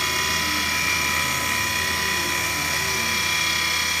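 A CNC mini mill cuts with a 1/8 inch carbide ball end mill spinning at 4700 RPM, giving a steady, loud high-pitched whine with a constant mechanical drone underneath, unbroken throughout.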